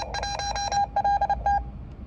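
Steady tone bursts keyed on and off in quick dot-dash patterns, Morse code CW signals received on a busy band through an end-fed halfwave antenna, clear over a low background hiss.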